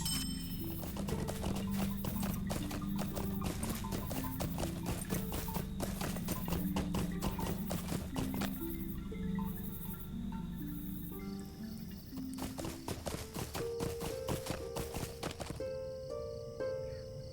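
Steady clip-clop of horse hooves during swift travel in the Lord of the Rings Online game, a continuous rhythmic trot under music and ambient game sounds.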